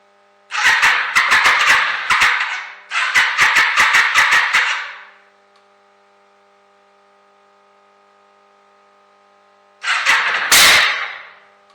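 A Yamaha XV 535 motorcycle with its carburetors removed cranks over in two loud, sputtering bursts of rapid chugging, goes quiet, then gives one more short burst and a sharp pop near the end.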